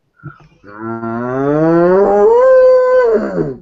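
A person imitates a cow's moo on a game show, a single long, loud, rising then falling vocal low heard alone, like a buzzer sound.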